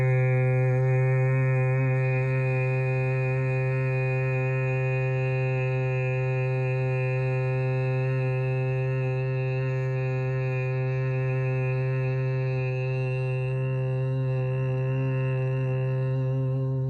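Sustained humming bee breath, the Brahmari breathing of yoga practice: one steady, strongly resonant voiced drone held evenly for many seconds without a break.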